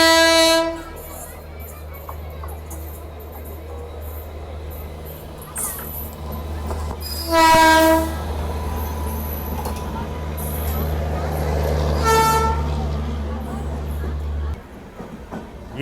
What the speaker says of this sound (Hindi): तो बहुत देर से अपनी ट्रेन यहाँ पे खड़ी थी क्योंकि रणकपुर के साथ अपनी यहाँ पे क्रॉसिंग होने वाली थी।